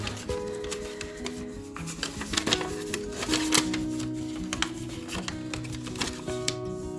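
Sheet of origami paper folded into a preliminary base, crisp rustling and creasing sounds close up, with busy crackles and rubbing throughout.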